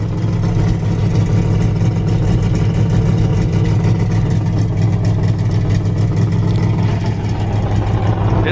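Big block motorhome engine running on a dyno, exhaust routed through massive trash cans: a steady, loud low rumble with a constant drone throughout, no speech.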